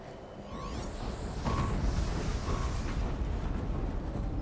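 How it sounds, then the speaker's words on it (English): A big explosion in the video game Horizon Zero Dawn, a loud, broad rumbling blast that swells after the first half-second and holds steady with a sustained roar, with small tonal game effects on top. "Big explosion."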